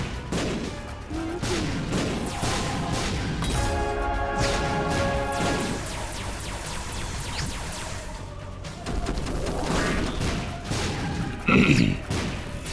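In The Binding of Isaac video game, dropped bombs explode in a series of loud cracking, smashing bursts over a dense, busy layer of game noise, with a heavier blast near the end.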